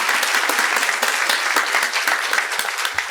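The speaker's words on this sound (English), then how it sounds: "How about applause for the judges?" Audience at a naturalization ceremony applauding, a dense and steady burst of many hands clapping that holds at full strength throughout, with no voices over it.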